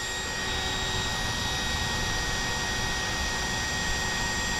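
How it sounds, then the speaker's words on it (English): Electric motor of a Losi DBXL-E 2.0 RC car with a Max5 G2 800KV motor running at speed, a steady broadband whine and rush that holds evenly throughout with no talking. "Motor doing real good."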